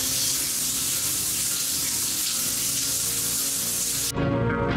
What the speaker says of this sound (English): Get a shower.